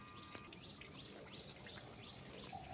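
Water drips and splashes lightly while someone waters garden plants, giving a few soft, irregular droplet taps over a quiet background.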